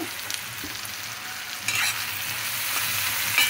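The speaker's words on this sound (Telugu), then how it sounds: "సరిపడా ఉప్పు వేసుకొని ఇది వేగాలన్నమాట." Eggplant frying with tomatoes and salt in a pan, a steady close sizzle with occasional stirring scrapes, slightly louder toward the end, no voices.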